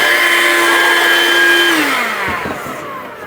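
A RYOBI 18V ONE+ cordless hand vacuum with powered brush bar whirs at a steady, loud, close pitch, then winds down as the motor is switched off, its whine sliding lower before fading.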